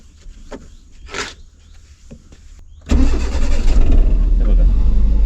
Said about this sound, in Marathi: आता कशी आपण एकदा चावी मारली की गाडी चालू झाली